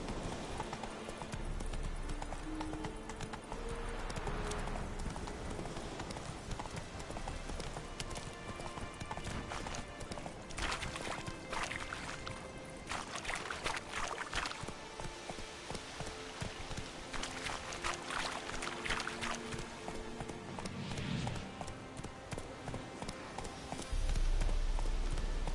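A horse gallops in The Witcher 3, with a continuous, fairly quiet stream of rapid hoof clip-clops under ambient game sound and music that runs throughout.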